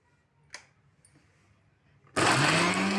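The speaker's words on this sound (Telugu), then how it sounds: "ఇప్పుడు మిక్సీ పట్టుకోవాలి" After a quiet stretch with a few soft clicks, a mixer grinder loaded with coriander, mint and a little water kicks on abruptly, filling the last second with a loud, steady whirring roar.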